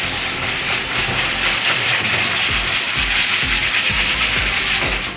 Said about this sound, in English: we grab our scrub pad and we start scrubbing. Circular motion, circular motion.